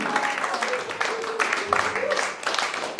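A church congregation applauds and cheers the Lord in a steady, dense patter of clapping from a crowd, mixed with raised voices and shouts throughout.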